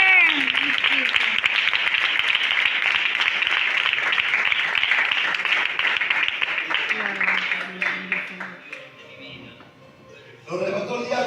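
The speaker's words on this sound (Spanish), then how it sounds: "Darle un aplauso y así de descanso." A church congregation applauds during a Spanish-language Bible study service, with sustained dense clapping that gradually thins out and fades, while voices talk over it.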